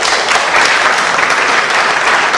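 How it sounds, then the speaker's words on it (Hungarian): A conference audience in Kecskemét applauds, dense loud clapping from a full room that holds steady throughout with no pauses. "Úgyhogy nagy taps mindenki."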